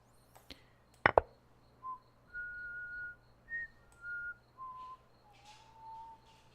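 A person whistling a slow, faint series of separate tones, each held about a second, with a couple of sharp clicks early on and nobody talking.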